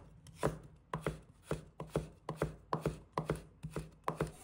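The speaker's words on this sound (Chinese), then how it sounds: "再切成丝，切出的丝粗细，尽量保持一致。" A knife chops a carrot into fine shreds on a cutting board, with about nine sharp, evenly spaced strikes, each one close and crisp, and no talking.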